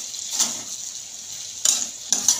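Hotel-style okra fry coated in masala is stirred in a pan, soft frying hiss punctuated by a few brisk scraping bursts of the spatula.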